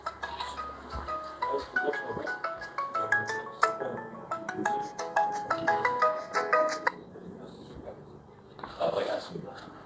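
A telephone rings with a bright melodic ringtone, repeating tonal beeps that play for several seconds, then stop, with a voice speaking nearby during an ongoing conversation.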